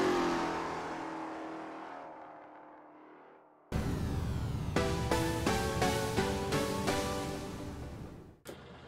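Lola T70 Mark II racing engine in Assetto Corsa on the vintage 1967 Nürburgring, a loud steady roar kicking in abruptly after a fading low rumble, with rising gear-change revs and sharp shifts stepping up through the gears.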